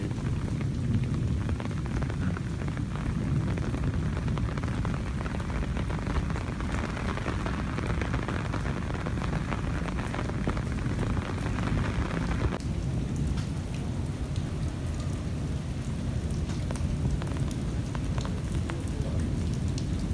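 Heavy monsoon rain pours steadily over a village, with rumbling thunder rolling underneath for much of the time; the downpour stays dense and close throughout.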